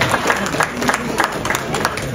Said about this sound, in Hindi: अभी आप लोगों से अनुरोध करता हूं कि एक बार जोरदार तालियों से सभी को स्वागत करें।